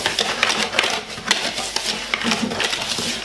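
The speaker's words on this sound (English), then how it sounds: "I just whisk all the dry ingredients together so that they are incorporated very well" Dry pancake ingredients, without baking powder, are whisked together in a bowl: a quick, continuous run of rhythmic clicking and scraping strokes, close and moderately loud, with no one talking.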